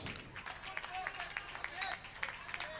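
A crowd claps and applauds steadily for both teams at a semi-final match, a dense patter of hands that sounds fairly distant.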